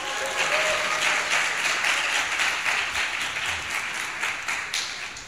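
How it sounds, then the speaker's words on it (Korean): A church congregation breaks into dense, sustained applause at a Sunday service, loud and even throughout with a brief whoop or cheer early on and no talking over it. "제가 넥타이를 풀으면 여러분이 박수를 치시면 돼요"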